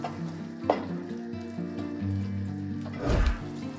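Portuguese rice with chouriço sausage and seafood in a pan, a steady low sizzle and bubble with a brief scrape near the start and a louder burst of frying toward the end.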